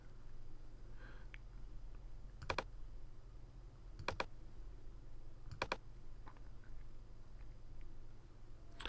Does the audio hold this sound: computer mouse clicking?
yes